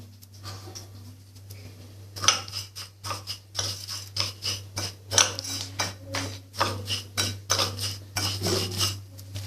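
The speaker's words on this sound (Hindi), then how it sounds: "इसका चम्मच लेते हैं और ये मिक्स करते हैं।" A spoon stirs crispy chana dal nimko with salt in a bowl, giving rhythmic scraping and clinking strokes, close and fairly clear, with no talk.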